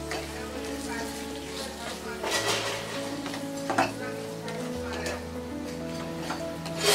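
Capsicum and onions being stirred into paneer bhurji in a pan, with soft spatula scrapes and knocks over a gentle sizzle, under steady background music.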